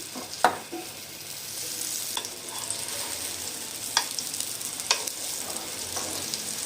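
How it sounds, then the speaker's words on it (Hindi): Egg-dipped French toast slices frying in butter in a pan give a steady soft sizzle, broken by a few sharp clicks and taps from a utensil against the pan. "इस साइड पे मैं थोड़ा सा मक्खन डाल रही हूँ"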